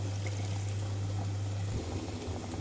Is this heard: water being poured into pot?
yes